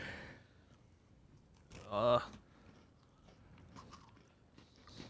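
A Penguin chocolate biscuit is bitten and crunched once, a close, loud bite with a brief burst of crunching, followed by quieter chewing and faint background voices.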